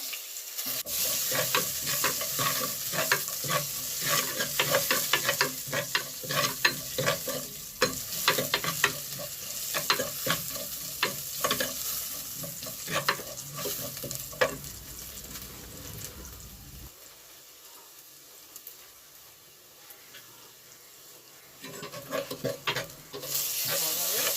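Loud crackling and spattering of mustard seeds popping in hot oil, continuous and busy, easing briefly before flaring up again near the end.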